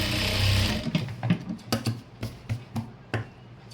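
Stitching on a chudithar pant starts with a short whirring run of the sewing machine, then breaks into a series of separate clicking thumps as the needle is worked slowly.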